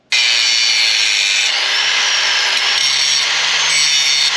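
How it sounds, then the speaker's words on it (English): An angle grinder cuts into the master link weld on the track of a 1941 Caterpillar D4 dozer: a loud, sustained, high-pitched metallic whine that starts abruptly and holds steady to the end, close up. "I'm gonna hit it with the angle grinder and see if I can see how deep the weld is."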